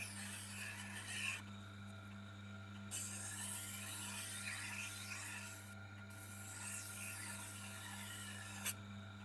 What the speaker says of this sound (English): So let's go over to the honing wheel.